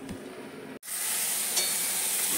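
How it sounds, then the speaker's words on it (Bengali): Prawns fry in a pan with a steady close sizzle, briefly cut by a short gap before the hiss resumes, brighter and fuller, with no talking. "এখন চিংড়িগুলো ভেজে নিচ্ছি"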